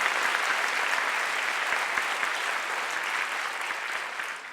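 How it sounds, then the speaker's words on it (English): A town hall audience on Martha's Vineyard bursts into loud, dense clapping that carries on steadily and tapers slightly at the end. "You can stop and clap."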